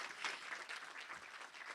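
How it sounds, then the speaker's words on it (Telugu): An audience at a Telugu press meet for the ZEE5 web series Bahishkarana breaks into sustained applause, heard as a continuous, fairly distant wash of clapping. "can you please clap once again as a token of celebration"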